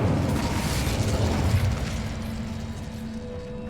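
A fire spell cast in the Harry Potter video game Hogwarts Legacy gives a loud, whooshing burst with low rumble that swells briefly and then fades into a quieter tail, with no talking.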